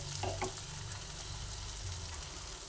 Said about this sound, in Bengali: তেলের মধ্যে দিয়ে দিচ্ছি এক এক করে সেজন্য গ্যাসের ফ্লেমটা আমি মিডিয়াম করে নিয়ে বড়াগুলোকে ভেজে নিচ্ছি